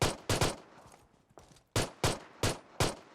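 Gunfire rings out in PUBG Mobile: a quick pair of sharp shots, a fainter shot, then four loud evenly spaced bangs close by, with quiet background between them.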